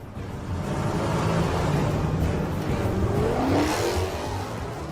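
Cars racing and chasing each other through city streets in a Korean drama, engines roaring steadily and revving hard, with a brief rising whine near the end.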